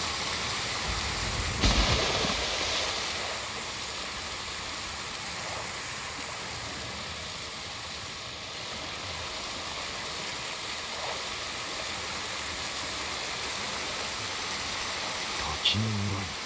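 Steady rushing waterfall in the Ghost of Tsushima video game, a broad continuous wash of falling water with a brief louder splash early on and faint voices underneath.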